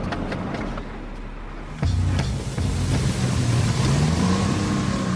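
A 23-tonne armoured military vehicle on the move in Afghanistan, a quieter rumble that jumps louder partway through into a heavy low engine drone with a rising whine, with a few sharp knocks early on.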